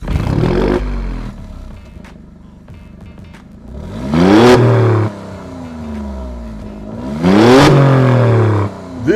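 A car engine sits idling, then is revved sharply twice, each rev surging loud and falling back to a low idle in between.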